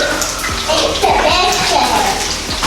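Water pours steadily into a pot of rice, a continuous splashing gush with a few light knocks, close by.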